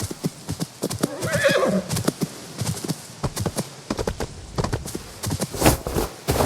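A horse in the video game Where Winds Meet gives a clear whinny amid repeated clip-clop hoofbeats, steady and close, with no talk over it.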